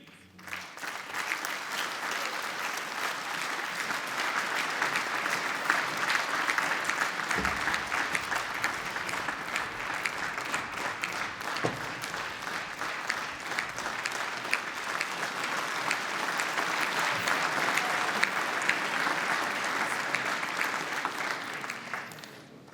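Sustained, dense audience applause fills the hall at the European Athletics Golden Tracks Award 2015 ceremony, honouring the national winners, holding steady for over twenty seconds with no voices over it.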